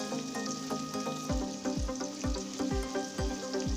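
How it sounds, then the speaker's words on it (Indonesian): Thinly sliced garlic and shallots fry in hot oil with a steady close sizzle, punctuated by repeated soft stirring knocks at a regular pace. "Kita tumis atau kita goreng ini sampai kuning kecoklatan dan berbau harum."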